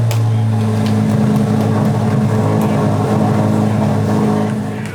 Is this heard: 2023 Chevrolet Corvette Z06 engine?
yes